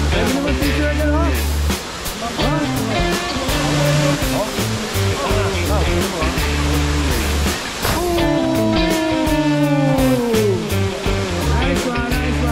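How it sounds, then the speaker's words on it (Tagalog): Hicming Falls, a waterfall in Virac, Catanduanes, roars loud and close in a continuous rush, with people's voices rising over the water. "Welcome to Hickming Falls."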